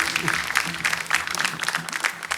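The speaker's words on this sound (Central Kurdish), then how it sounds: "چەپڵەیەک بۆ ئیدریس" A studio audience at the Kurdistan Star singing contest final gives a short, brisk round of applause for contestant Idris, with speech faintly underneath.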